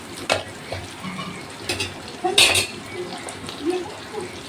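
Onions frying on high flame in a pan for chicken biryani, a soft sizzle under bursts of stirring and scraping against the pan, with one sharp clatter midway, while a person talks nearby.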